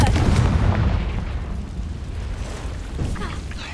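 Confringo blasting spell explosion in the Hogwarts Legacy video game, a loud rumbling boom at the start that decays into a lingering low roar, with a faint second burst near the end.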